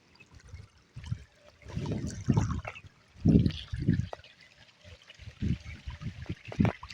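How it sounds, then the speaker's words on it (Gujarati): Irrigation water flows along a channel in a maize field, giving an uneven trickling and gurgling with repeated louder surges over a steady low wash. "અહીંયા આપણે પાણી આવતું હતું"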